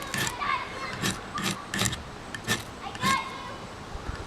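Children playing next door, heard as a series of short shrill bursts of distant voices and shrieks at irregular intervals, fairly faint and outdoors.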